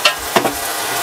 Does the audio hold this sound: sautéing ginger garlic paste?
yes